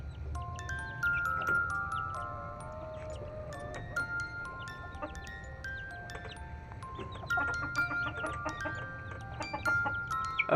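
Chicks and chickens on a rooftop keep up a busy mix of high peeping and clucking, many small calls overlapping and repeating closely and clearly with no one speaking.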